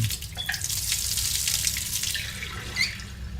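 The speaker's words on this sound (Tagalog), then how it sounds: "nagulat ako na halos mapatalon sa biglaang pagbukas ng gripo, gayong hindi ko naman binubuksan." A water tap in an apartment bathroom gushes on and keeps running, a close, steady hiss of splashing water with no one speaking.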